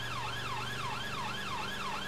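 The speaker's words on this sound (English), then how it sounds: "Change siren tone required." Mercedes Sprinter ambulance siren wailing on a blue light run, a steady rising-and-falling tone cycling about five times, loud and close over a low engine drone.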